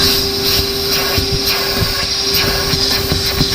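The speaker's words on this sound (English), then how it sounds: "I'm gonna turn the vacuum off" A vacuum runs steadily and loudly up close with a constant whine and hiss, set up to find an exhaust leak on a car or truck, with faint rhythmic pulses underneath.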